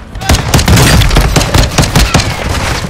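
Rapid gunfire in a Call of Duty match: dense, loud overlapping shots and bursts crackling continuously for about three seconds.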